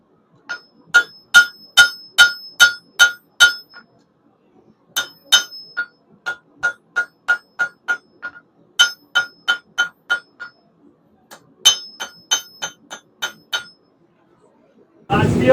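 Rhythmic bursts of ringing hammer blows on hot steel while forging a railroad spike knife, four to eight strikes per burst with short pauses, bright and close.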